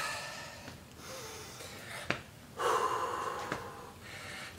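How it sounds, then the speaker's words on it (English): Heavy breathing during a bootcamp exercise session: several loud, rough inhales and exhales in an uneven rhythm, close to the microphone, with one sharp snort-like burst midway and no talk. "Deep breathing."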